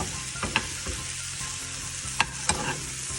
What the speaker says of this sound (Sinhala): බී ලුණුයි සුදු ලුණුයි මේ වෙලාවේදී හොඳට chicken එක බැදෙන්න දෙන්න